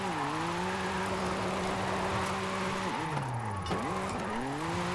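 A BMW M4 drifting in the racing game Forza Horizon 5 gives a steady, loud engine drone with pitch sweeps and dips as it slides, plus tire noise, continuous throughout with no talk.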